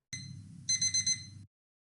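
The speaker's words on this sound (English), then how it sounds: "let's add a soft alarm vibration in the first clip." A brief buzzing alarm with a low vibrating rattle and a high electronic tone that pulses several times, then stops abruptly.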